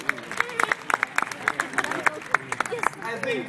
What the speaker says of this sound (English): Put a round of applause if you want.